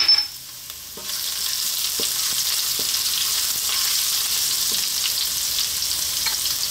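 Ginger drops into a pan of frying garlic, setting off a loud, steady close sizzle after a quieter opening, with occasional light stirring taps.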